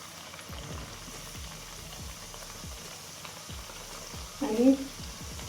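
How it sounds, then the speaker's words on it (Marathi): Spinach and pea puris deep-fry in hot oil, making a soft, steady bubbling sizzle with faint rhythmic crackles and a brief louder burst near the end. "आता आपल्याला तळून घ्यायचं आहे. तेल छान आपलं गरम झालं आहे. एक एक पुरी सोडायची."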